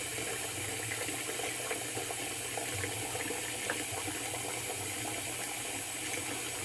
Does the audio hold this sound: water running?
yes